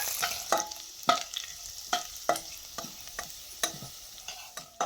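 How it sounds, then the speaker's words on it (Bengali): Grated ginger and chopped green chili fry lightly in a little oil for moong dal kachori filling, with repeated stirring scrapes and soft sizzling in short bursts, close and fairly quiet. "আদা আর কাঁচা লঙ্কাটাকে হালকা একটু ভেজে নিয়েছি"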